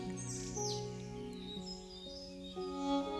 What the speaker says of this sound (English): Birds are sound effects added over it.